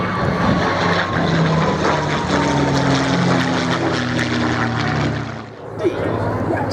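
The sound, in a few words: Merlin-engined Spanish-built Messerschmitt combat aircraft flying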